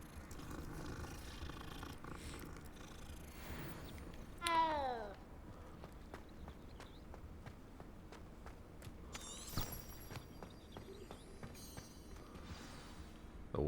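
A cat in the Hogwarts video game meows twice, a clear drawn-out cry and a later shorter one, over a soft purring and background game ambience with scattered footstep-like taps.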